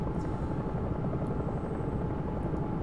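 A Bell 222 air ambulance helicopter in the X-Plane 11 flight simulator gives a steady, dense rotor drone with a low thrumming beat, constant and loud throughout without talk.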